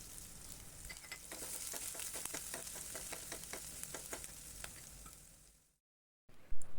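Onion and curry leaves fry in a pan while making a Tamil-style goat intestine dish, with a steady, dense sizzle full of rapid crackles and pops that stops abruptly, followed by a short burst of noise.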